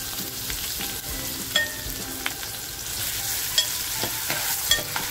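Chopped onion dropped into hot oil for Malvani mackerel tikhle, a loud continuous sizzle up close with a few sharp spatula taps and scrapes.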